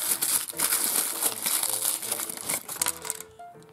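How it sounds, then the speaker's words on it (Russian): Rustling, crinkling plastic bag handled up close while a surprise toy is unboxed, with dense continuous crackling throughout that thins out near the end. "И шуршащий пакетик очередной."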